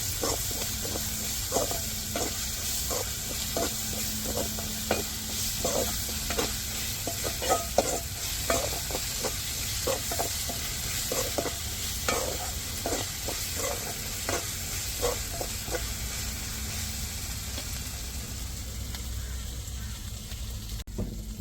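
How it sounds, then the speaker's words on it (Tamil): Ginger and garlic sauté with onion in a pan as part of a fish stir-fry, making a constant close hiss of frying. Regular scraping taps from stirring recur throughout, with no talking. "இப்போ இஞ்சி பூண்டையும் சேர்த்துக்கிடுவோம் நல்லா இஞ்சி பூண்டு பச்சை வாடை மாறப்பட்டுக்கு வெங்காயத்தோடு நல்லா வதக்கி விட்டுக்கிடுவோம்"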